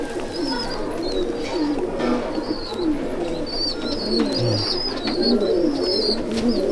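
Pigeons coo steadily in a loft at Sangrampur, several birds overlapping in a continuous low burbling chorus with faint higher chirps, close and fairly loud throughout with no voices.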